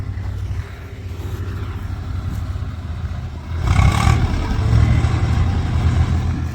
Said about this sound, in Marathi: ट्रॅक्टर अडकलेला